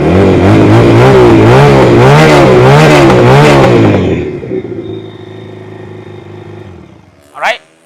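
A 2021 CMC Daytona Cafe Racer 250cc two-cylinder motorcycle engine runs loud and close with a pulsing, rising and falling revving rumble, then settles to a steady idle, ending with a brief sharp sound.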